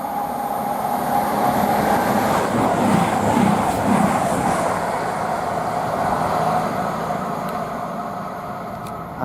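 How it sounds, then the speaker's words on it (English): A Voyager train heading from Reading to Newcastle passes at Goring & Streatley on the Great Western Main Line, a loud steady rumble of wheels and engine that builds and then gradually fades. "the next train to pass by, we've got a Voyager heading to Newcastle from Reading"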